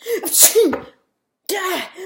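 Two sharp, forceful sneezes close by, the first with a breathy build-up, separated by a brief silence.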